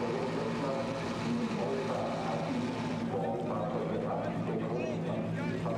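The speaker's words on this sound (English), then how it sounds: "Right, engines fired up all over again." Several racing cars sit idling on the starting grid behind the pole-sitter, their engines making a steady, fairly quiet low drone with a commentator's voice talking over it throughout.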